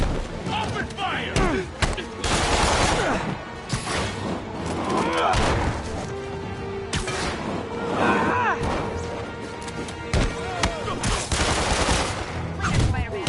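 Gunfire in a Spider-Man video game rattles in repeated bursts mixed with crashes and impacts, while voices talk over the chaotic action.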